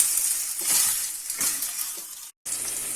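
Hissing sizzle of chicken garlic mushroom fried rice frying in a hot pan on a high flame, with scraping and light clinks of a utensil stirring, briefly cutting out near the end.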